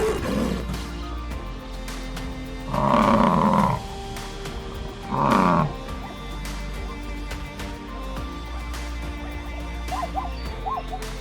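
Lions give two deep, harsh roars rising out of a low rumbling background of pounding rain a few seconds apart, followed by fainter higher calls near the end.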